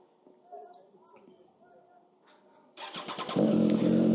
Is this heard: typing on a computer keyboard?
no